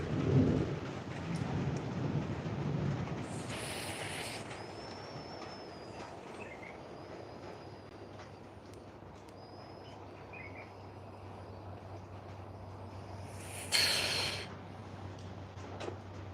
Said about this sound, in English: The fact that it's raining is definitely adding a certain energy to